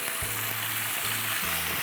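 Mutton korma spices frying in a pan give a steady broad sizzle throughout, with a few low humming tones underneath and no talking.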